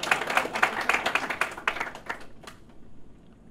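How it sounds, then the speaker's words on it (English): Audience at a retro Apple II computer conference clapping in a burst of scattered applause that thins out and fades over a few seconds. "You can clap again."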